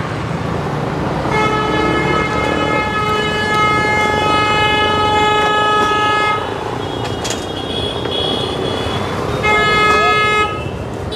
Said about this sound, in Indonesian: Wah, klakson.